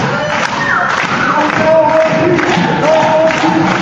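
A wrestling crowd at a championship match cheers and roars steadily, loud and continuous, with chants rising and falling and thuds from the ring.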